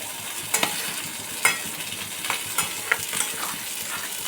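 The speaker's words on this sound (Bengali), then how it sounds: "পোস্তটা আমি হালকা ভেজে নিচ্ছি।" Poppy seeds being lightly fried and stirred in a pan over a low gas flame give a soft, steady sizzle, with a few sharp scraping clicks from the stirring. No one speaks.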